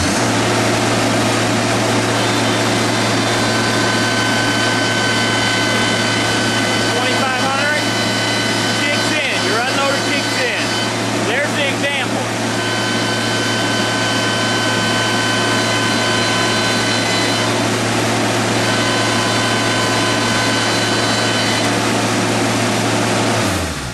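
Allen HDX 600 pressure washer running steadily at full throttle, a loud continuous engine drone with a constant low hum, the unloader cycling in partway through; a voice speaks over the machine noise.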